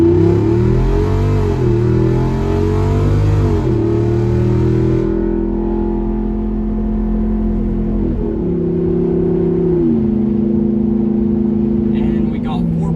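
A Jeep Rubicon 392 on 38-inch tires accelerates hard, its V8 climbing through several gears with rising and falling pitch sweeps, then settling into a steadier drone as it cruises on the interstate.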